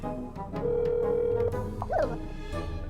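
A phone being dialed in the game That's Not My Neighbor: a few short key tones, then a long steady ringing tone and a brief warbling chirp, clear and close.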